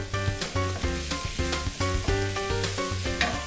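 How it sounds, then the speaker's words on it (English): Chopped garlic sizzles in a hot pan, a steady close frying hiss broken by rhythmic scraping strokes of a spoon, with no talk. "Put in about a tablespoon of chopped garlic."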